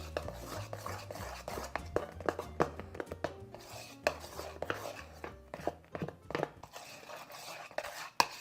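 A spoon stirs a dessert mixture in a bowl, making a string of irregular scraping taps and clinks at close range, with soft low background hum throughout.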